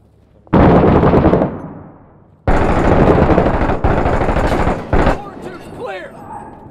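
Loud, close gunfire and heavy booming mortar blasts in the urban war shooter Six Days in Fallujah, a long rattling burst followed by sustained firing and sharp cracks, fading into lighter noise at the end.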